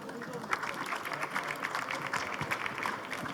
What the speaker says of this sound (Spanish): Un aplauso, porfa